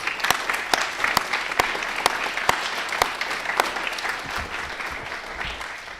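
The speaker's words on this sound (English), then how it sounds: "So let's do a quick round of applause." Audience applause at an onstage carbon removal challenge showcase, a steady crowd of clapping hands sustained for several seconds with a few sharp, prominent claps standing out near the front.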